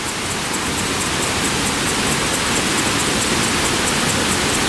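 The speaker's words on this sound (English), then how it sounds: "Okay, this is just a small falls flowing from the river that we just crossed on the bridge." Small waterfall fed by a river in Iguazu National Park, a steady, dense rushing and splashing of water heard close up, even and unbroken throughout, with no voices.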